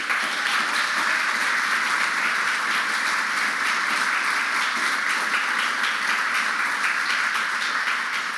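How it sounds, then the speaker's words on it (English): An audience at a political conference in Paris on policy toward the Iranian regime breaks into sustained applause, a dense, even wash of clapping that holds steady throughout with no talk over it. "And that deserves a round of applause."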